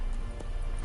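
Horse hooves gallop in The Witcher 3, a quick burst of muffled, evenly spaced hoofbeats over a steady background wash, brief and fairly soft.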